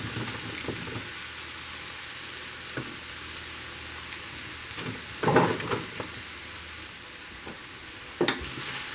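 Onions stirred into a pan of browned bell peppers, a steady close sizzle and hiss of frying throughout, broken by a few louder scraping stirs.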